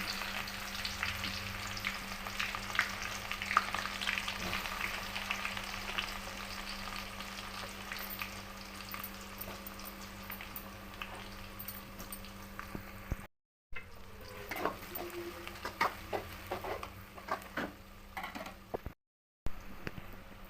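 Onions frying in oil with mustard seeds and garlic for palak dal, a steady crackling sizzle with occasional stirring scrapes, moderately close, two brief dropouts of silence, no voices.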